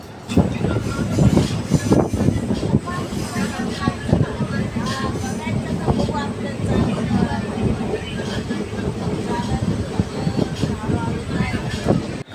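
A passenger train runs with a steady rumble and rattle of carriages, wheels clattering continuously for the whole stretch, close and loud. Voices may be mixed into the noise.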